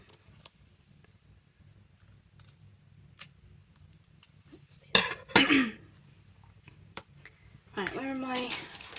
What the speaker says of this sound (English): Let me get in there with some small scissors